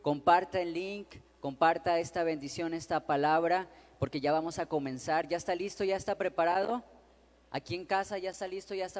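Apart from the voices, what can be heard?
No everyday noise stands out behind the speech.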